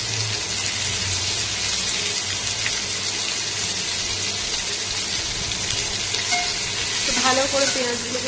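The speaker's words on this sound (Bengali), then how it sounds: "তো ভালো করে পেঁয়াজগুলোকে ভেজে নেবো।" Chopped onions and capsicum fry in a pan for chilli chicken, making a loud continuous sizzle with stirring noises throughout and a brief bit of background voice near the end.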